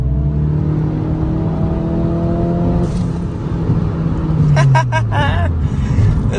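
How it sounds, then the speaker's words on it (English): A small right-hand drive Toyota Starlet drives along with a steady engine drone and rising then falling revs, its tone dropping near the end, while someone talks from inside the car. "I'm in Emilio's little right-hand drive Toyota Starlet"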